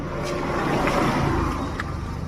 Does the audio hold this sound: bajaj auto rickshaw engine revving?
yes